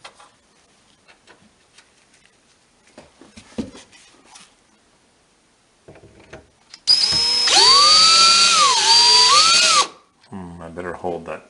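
After a few faint taps and handling noises, a power drill bores into wood for cabinet trim, a loud close whine lasting about three seconds with rising and falling pitch, followed by a brief lower buzz.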